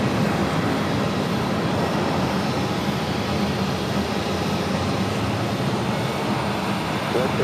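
Airbus A320neo airliner at Phoenix Sky Harbor airport, its engines a steady loud roar and rumble that holds unchanged throughout, with people talking over it.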